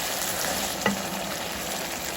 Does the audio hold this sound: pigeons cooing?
no